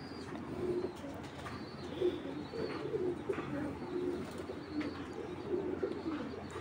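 Cooing of a large silver (aluminium-silver) female pigeon, soft repeated low coos at close range over a steady background hum, with no voices.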